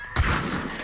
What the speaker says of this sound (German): Ich musste jetzt schießen.